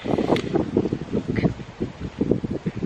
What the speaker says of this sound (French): Il y a du vent, j'espère que vous allez m'entendre.